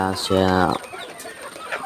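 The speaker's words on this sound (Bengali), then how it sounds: "এগুলা আমাদের মুরগি, বুড়া মুরগি ডিম পাড়ে প্রতিদিন।" Old laying hens give one loud, drawn-out call, followed by quieter scattered clucks over a short stretch.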